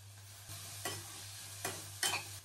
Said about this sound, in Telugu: టమాటాలు కూడా బాగా ఫ్రై అయిపోయి.